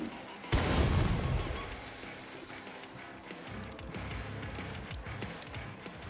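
Scenery explosions fire beside a roller coaster track in the video game Planet Coaster 2: one loud, close boom hits at about half a second and rumbles away, then steady ride and park noise continues with no one talking.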